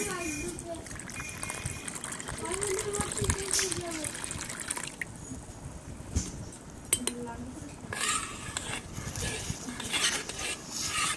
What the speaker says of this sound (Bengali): এবারে আমি সুজিটাকে ভালো করে জল দিয়ে ধুয়ে ভিজিয়ে দেব।